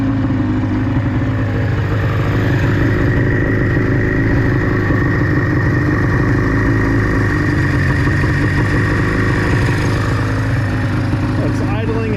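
An old snowmobile engine that sat ten years in a storage container idles at around 1500 to 1600 rpm, a steady close rumbling putter with slight unevenness, running alone without voices.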